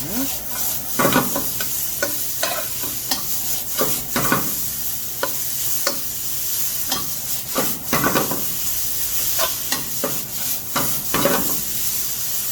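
Julienned carrots and other vegetables for japchae are stir-fried in a pan, giving a steady sizzle broken by repeated scraping, tossing stirs at close range, with no talk.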